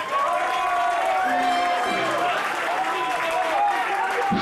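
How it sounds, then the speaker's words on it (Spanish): Applause and cheering from a crowd at a concert in Madrid, a dense, steady wash of clapping and shouts lasting a few seconds, loud and close, with voices mixed in. "Un aplauso para Gonzalo."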